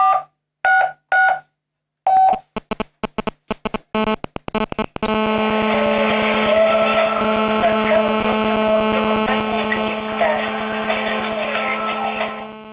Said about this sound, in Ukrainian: Телефонуємо оператору.